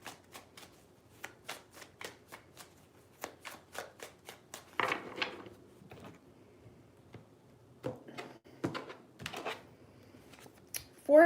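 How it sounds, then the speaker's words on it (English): Tarot cards shuffled by hand in a quiet room, a run of crisp riffling flicks and taps, some in quick bursts and some spaced apart, close and clear with no talking. "3 shuffles."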